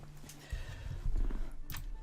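Horses in the Napoleonic-era strategy game Imperial Glory whinny and clop their hooves, a brief burst of neighing over a busy rumble of hoofbeats, moderately loud and close.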